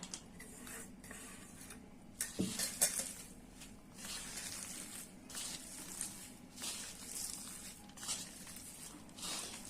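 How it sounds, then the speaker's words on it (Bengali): Garlic frying with onion and coriander leaves in a pan, a faint soft sizzle broken by intermittent stirring scrapes and clicks, one sharper knock near the start. "আর ভালো করে রসুনটা ভাজা নিবেন যাতে একবারে মিশে যায়।"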